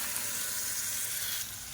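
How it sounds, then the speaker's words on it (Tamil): Cooked lentils going into a tomato mixture for sambar in a pan, giving a steady broadband sizzle and frying hiss that holds for under two seconds and eases slightly near the end, with no talk. "இந்த ஸ்டேஜில் நம்ம எடுத்து வச்சுருக்க அந்த பருப்பை சேர்த்துக்கலாம்"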